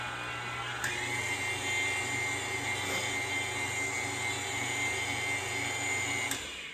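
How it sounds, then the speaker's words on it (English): An electric mixer whirs continuously through banana bread batter, a steady close motor hum that starts and stops with short clicks at each end, with no talking. "I'm gonna mix it just a little bit more since I just scraped the edges and everything"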